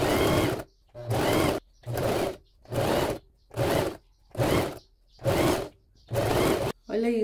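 A sewing machine stitches frilly lace trim onto a small skirt in seven even bursts of rapid whirring, each separated by a brief pause, close and loud.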